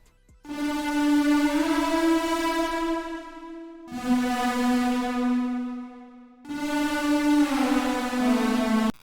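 A thick, buzzy saw synthesizer preset with tube distortion and reverb swells in three long sustained notes, each held a few seconds with a brief break between them, loud and full.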